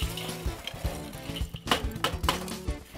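Natural lump charcoal, glowing red, tumbles out of a metal chimney starter at a grill, giving a cluster of clattering, clinking crashes and scraping rattles over about three seconds, close and fairly loud, with no voices.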